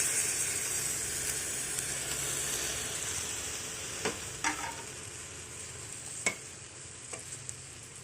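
Moringa flowers fry in a pan with ginger, garlic and coconut, giving a steady soft sizzle throughout, broken by a few sharp scraping stirs near the end.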